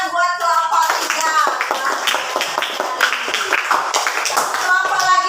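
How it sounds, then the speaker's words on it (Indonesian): A school class clapping for a group of classmates, sharp close handclaps in a fairly rhythmic burst, with children's voices mixed in. "Tepuk tangan buat kelompok 3."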